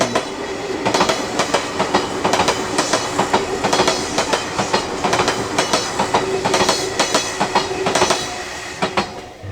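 A train rumbles past close by, steady wheel clatter with rhythmic clicks over the rails, loud and continuous with no voices.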